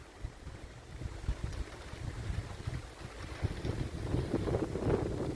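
An unseasonal downpour begins on a farm with strong wind, a continuous broadband roar of gusts and rain buffeting the microphone that swells slightly toward the end.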